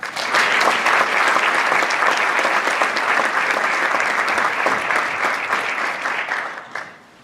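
At a high school awards night, a crowd applauds the Freshman Athlete of the Year with dense, sustained clapping that holds steady, then fades out near the end.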